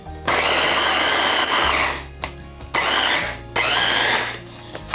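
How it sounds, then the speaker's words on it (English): An electric blender grinding chilli sauce ingredients and tomatoes into a smooth paste: three loud, close whirring bursts with short pauses between them. "I blend them into a smooth paste"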